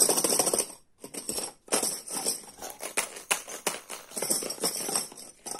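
A homemade paper-cup shaker filled with bottle tops is shaken in several bursts, giving a bright, busy rattle of clattering plastic caps with brief pauses between shakes, close and fairly loud.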